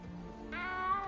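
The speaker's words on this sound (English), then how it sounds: "You don't need to be frightened, little cat." A frightened little cat meows in a wizarding video game, one short, fairly close call with a rising harmonic whine that holds for about half a second after a brief lower sound.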